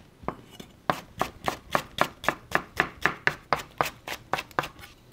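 Knife chopping green onion on a cutting board, a quick steady run of about twenty sharp, close taps with no talk.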